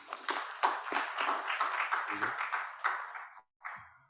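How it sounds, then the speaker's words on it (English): A small group of audience members claps in scattered, uneven bursts at a live streamed event, fairly faint and close, with a brief pause before a final clap or two. "Yeah, round of applause."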